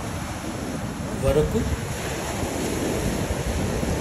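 Rough sea waves wash steadily onto the shore at Kovalam beach near Chennai, a continuous roar mixed with wind noise on the microphone while someone talks briefly over it.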